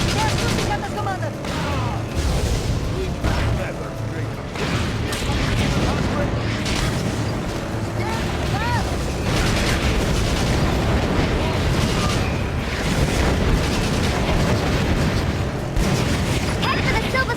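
Gunship gunfire and explosions in the GameCube war game Battalion Wars, a dense, loud, continuous barrage of booms and rapid shots with music and voices layered over the chaos throughout.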